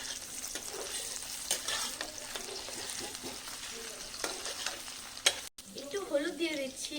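Potatoes fry in a pan with onions browned beforehand, sizzling steadily while a utensil stirs and scrapes through them in repeated strokes, close and clear.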